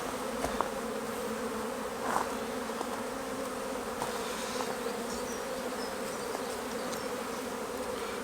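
Honey bees buzz steadily around an open beginner beehive during a weekly inspection, a continuous close hum with a few sharper passes of single bees near the microphone.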